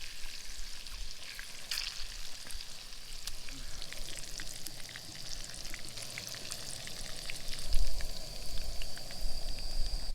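Trout fillets frying in a pan make a steady, close sizzle and crackle, with scattered pops and a few light clatters, and no voices.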